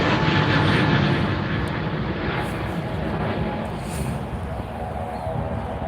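An Airbus A321 airliner at Edinburgh Airport roars steadily and loud, a broad continuous jet rumble holding through the whole stretch with a faint voice underneath.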